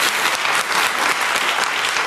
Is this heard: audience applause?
yes